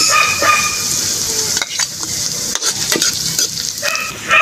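Ginger, garlic and onion sautéing in a hot pan for a breadfruit dinuguan, a steady loud sizzle with occasional stirring scrapes close by, no talking.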